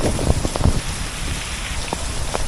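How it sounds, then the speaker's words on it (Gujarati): A heavy downpour in Mendarda, Gujarat, gives a steady wash of rain close by. Scattered low thuds and splashes of drops on nearby surfaces stand out in the opening second. "હજી પણ વરસાદ સતત વધી રહ્યો છે."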